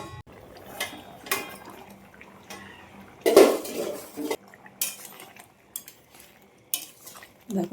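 Metal clattering and clanking around a pot of crab and potato curry as a lid goes on, several separate knocks with one sharper clang in the middle, close, without speech.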